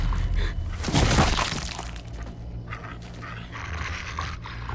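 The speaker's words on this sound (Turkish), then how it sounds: "Oha bu köpek kimin?" A dog in The Walking Dead video game whimpers and yelps amid a sharp crashing burst early on, followed by softer, uneasy sounds against a low rumbling background.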